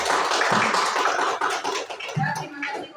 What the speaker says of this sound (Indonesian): tepuk tangan untuk kelompok 1 semuanya